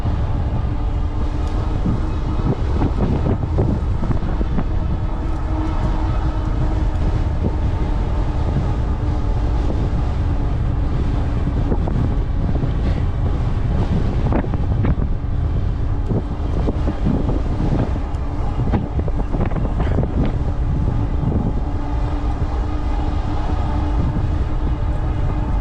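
Strong, steady wind roars into the microphone during an e-bike ride, a loud continuous rumble that buffets without pause throughout, with no talking.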